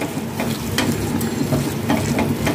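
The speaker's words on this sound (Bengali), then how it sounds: "পরিমাণ মতো নুন, হলুদ গুঁড়ো ও লঙ্কা গুঁড়ো দিয়ে ভালো করে সবগুলোকে ভালো করে নাড়িয়ে চাড়িয়ে মাখিয়ে নিন" A hand squishes and stirs a wet red lentil paste batter with nigella seeds, salt, turmeric and chili powder, giving close, moist, squelchy strokes in an uneven rhythm.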